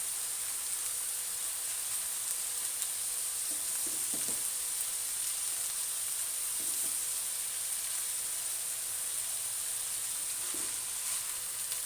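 Onions sizzle steadily in a pan as they begin to brown for bhindi masala, a constant close frying hiss with a few soft stirring scrapes and no voices.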